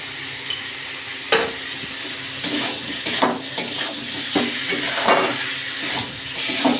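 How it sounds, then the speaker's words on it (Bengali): Pointed gourd and prawns fry together in a pan with salt, giving a steady close sizzle broken by repeated scrapes and clinks of a utensil stirring against the pan, with no voices. "সব একসাথে ভাজা হয়ে গেছে"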